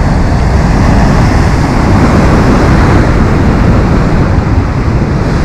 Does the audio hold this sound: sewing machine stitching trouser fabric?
no